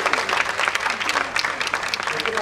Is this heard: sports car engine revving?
no